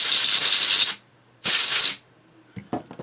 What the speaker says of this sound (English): Love compressed air.